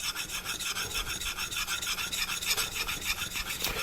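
A convex-ground knife blade is worked against a 400 grit Naniwa diamond whetstone, giving a steady, close, gritty rasping in quick regular back-and-forth strokes that runs without pause.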